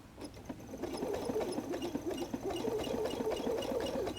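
A sewing machine stitches along fabric-covered clothesline rope for a basket, running in a fast, steady mechanical patter at moderate volume with no talking.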